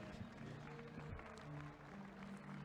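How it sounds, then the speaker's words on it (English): A crowd cheers and applauds at a track cycling race in Adelaide after a women's race finish, a steady wash of clapping and voices with some tonal background sound running throughout. "Give the young ladies a big cheer here."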